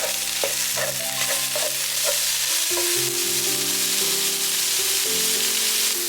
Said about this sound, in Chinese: 将这个香菇碎给这个红萝卜碎放进去，再给它翻均匀